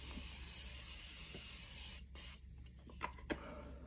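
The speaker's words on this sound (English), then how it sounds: "I'm actually gonna spray a little bit of this." An aerosol makeup setting spray being misted during a makeup routine, a steady bright hiss lasting about two seconds, close and fairly loud, followed by a few soft handling clicks.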